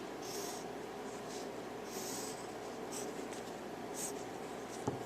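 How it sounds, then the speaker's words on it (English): A mechanical pencil with 2H lead scratches across paper in several short bursts of strokes, faint and close over a steady low room hum. "I'm working over a rough sketch I did earlier in 2H pencil using my mechanical pencil"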